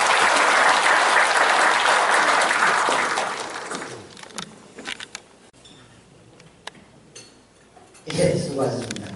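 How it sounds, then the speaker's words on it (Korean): Loud audience applause welcoming a new official at a chamber of commerce breakfast meeting fills the first four seconds, then fades into scattered claps and room noise before a voice speaks at the end. "큰 박수로 환영합니다."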